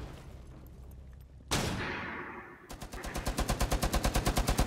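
Heavy machine gun fire in a video game: a sharp blast, then a fast, loud, evenly spaced burst of automatic shots building toward the end.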